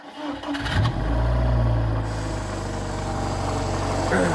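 A diesel walk-behind tractor engine cranks and catches, then settles into a steady, loud, low chugging run that continues to the end, with no talk over it.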